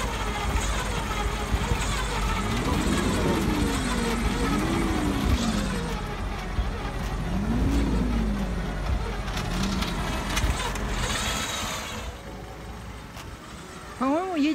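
A UAZ off-road vehicle drives on an off-road route near Murmansk, its engine droning steadily with rising and falling whine as it works, while people talk over it.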